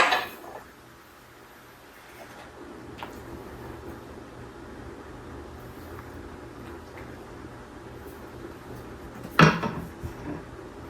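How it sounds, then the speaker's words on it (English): Instant Pot chili spooned into a bowl, a few scattered light scrapes and clinks of spoon against pot and bowl over quiet room tone, ending with a sharper metallic clatter near the end. "I'm just going to get a little spoonful out to try."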